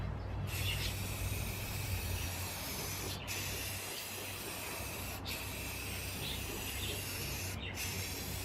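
A third coat of spray paint going onto a chrome bumper, a steady close hiss of the spray can running almost without pause, with a few brief breaks between passes.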